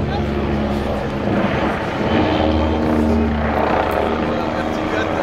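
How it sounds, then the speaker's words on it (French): A Red Bull helicopter at an air show throbs steadily nearby with a heavy rhythmic chop and blade slap from the rotor blades, a broad noisy roar throughout. "on entend ce genre de claquement des pales de rotor"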